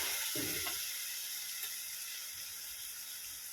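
Sweet corn kernels frying in a pan for a quick corn bhaji, giving a steady close sizzle throughout with a few brief scraping stirs near the start.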